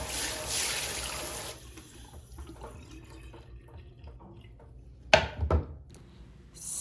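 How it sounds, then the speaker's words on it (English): Water from a TriggerJet nozzle sprays in a flat fan across an Ikonart stencil to wash it out. The hiss comes in bursts, strongest at the start, with quieter trickles and drips between and a sharp splash near the end. "Not only does it have a nice flat spray that evenly goes across the stencil"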